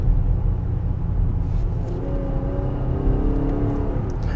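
Cabin-side engine drone from a 2022 Nissan Pathfinder V6 with a 9-speed automatic, a steady low rumble that swells slightly with rising harmonic tones as it accelerates, no talking over it.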